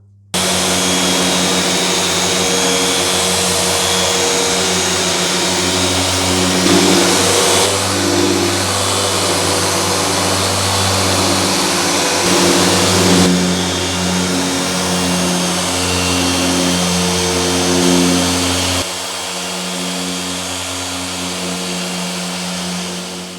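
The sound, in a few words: polishing machine applying Meguiar's Ultimate Compound to car paint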